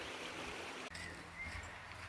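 River water flowing steadily beside a riverside campsite, a continuous broadband rush that stays at an even level throughout, with a brief dropout near the middle and no voices.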